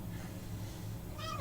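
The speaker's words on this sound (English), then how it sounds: "our special guest is Irie, my kitty" A single short cat meow comes near the end, faint and close, over a low background hum.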